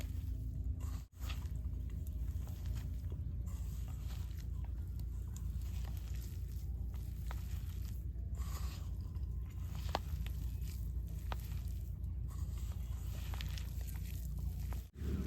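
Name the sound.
hand-mixing raw jackfruit fritter mixture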